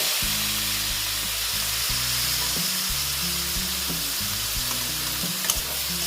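Spice paste and a splash of water hit a hot frying pan for a potato and soybean curry, producing a loud, steady hiss and sizzle up close, with a low hum underneath and a brief clink near the end.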